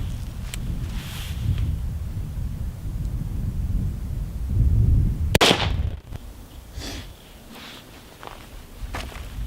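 A single sharp rifle shot from a 300-meter-zeroed gun fired at a 25-meter range cracks out once mid-clip over a low outdoor rumble, with no talking.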